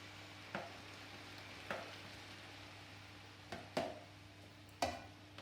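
A chicken and vegetable noodle stir fry is turned in a pan with a fork and spoon, giving soft scraping and stirring under a faint background hum, punctuated by several sharp clinks and taps spaced irregularly.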